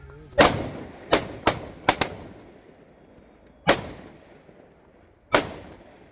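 A gunfire salute at a soldier's funeral procession in Katra, with sharp loud rifle shots fired singly and in quick pairs at irregular intervals across the clip, ringing out against a quiet background.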